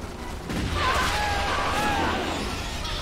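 Rapid gunfire from units in the sci-fi strategy game Starship Troopers: Terran Command, a dense sustained fusillade of shots and bursts with high whining tones layered over it, steady and loud for most of the three seconds.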